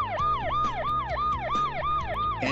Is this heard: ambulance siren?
yes